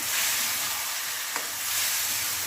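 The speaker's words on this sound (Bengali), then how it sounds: "বাটিটার মধ্যে একটু জল নিয়েছি, জলটা দিয়ে দিলাম এখানে। এবার একটু কষাবো।" Jackfruit kofta curry masala cooking in a pan after water is added, a steady loud sizzle and hiss with one faint utensil tap.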